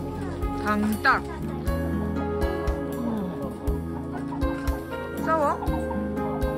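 Native Korean chickens cluck at a zoo, with several close, irregular clucks and calls mixed among other birds and people talking.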